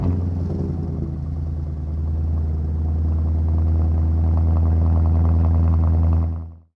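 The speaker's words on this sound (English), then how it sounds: "here is the cold start." Cold start of a Mercedes W210 E55 AMG with a straight-pipe exhaust, muffler and resonator deleted: a loud, deep, steady idle rumble that flares briefly at ignition, holds strong, then cuts off abruptly.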